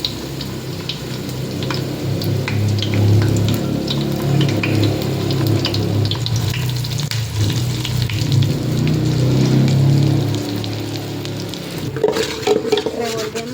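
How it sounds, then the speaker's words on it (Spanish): Ground beans frying with browned onion in a hot pan, a loud continuous sizzle with stirring scrapes throughout, close up and alone, for a coastal Oaxaca crab dish. "Cuando la cebolla se empiece a quemar, es tiempo de echar los frijoles."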